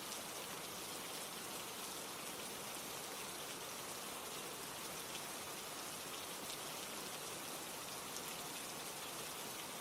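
Steady rain pours down at night, a continuous dense hiss of drops striking surfaces, even and unbroken throughout with no voices.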